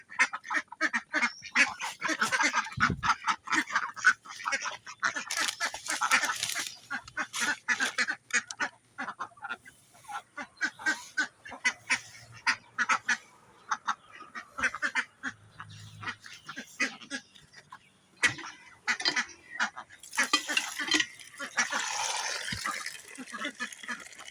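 A flock of ducks quack and honk in repeated, overlapping bursts while waiting to be fed, close by and lively, with a human voice occasionally heard among them.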